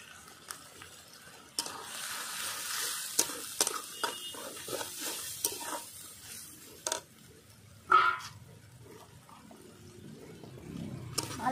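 Spices and chopped tomatoes with coriander and turmeric powder are sautéed and stirred in a pan for chicken curry, with soft sizzling under repeated scraping and clinking strokes of a spoon, fairly close.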